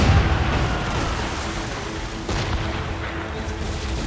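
Ship cannons fire in a naval battle in the video game Assassin's Creed Rogue, low booming blasts rolling out amid continuous rumble, with one sharper report near the middle.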